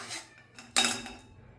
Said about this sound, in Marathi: वाटीने किंवा चमच्याने आपल्याला त्याला गाळायचं आहे.